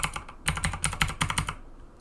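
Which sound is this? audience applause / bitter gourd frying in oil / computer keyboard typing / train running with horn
computer keyboard typing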